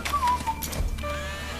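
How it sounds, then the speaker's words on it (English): A short, faint whistled tune of a few thin notes drifts over a low ambient hum in the video game BioShock, with no one talking. "Who's whistling?"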